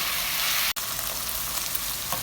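Mutton frying with onions in a karahi gives a steady, dense, close sizzle that runs without a break, with no speech over it.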